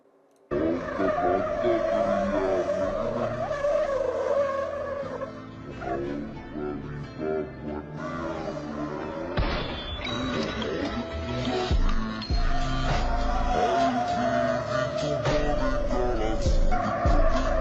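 A Honda car spins controlled donuts with loud, sustained tire squeal and skidding over a revving engine. The screech wavers in pitch as the car circles nearby.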